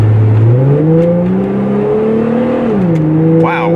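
A Plymouth Prowler roadster accelerates hard, its engine note climbing steadily through the gears with a loud, close, sustained rising drone and a brief shift dip near the end, no voices.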